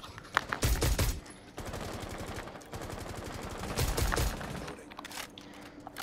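Automatic gunfire in the video game Rainbow Six Siege: loud, rapid bursts near the start and again near the end, with lighter rattling shots in between.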